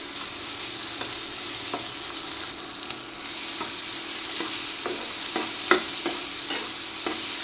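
Boiled potatoes fry and get stirred in a pan, giving a continuous sizzle broken by regular spatula scrapes and taps at close range.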